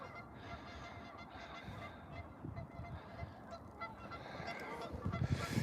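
Geese honk continuously outdoors, a dense, overlapping chorus of calls that builds louder toward the end, with no talking.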